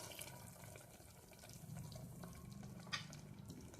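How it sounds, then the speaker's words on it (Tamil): A cup of water poured into a pot of basmati rice for vegetable pulav, heard as a soft, steady trickle and splash that runs quietly throughout, with no talking. "இன்னொரு கப்பில் தண்ணி நான் ஊற்ற போகிறேன்"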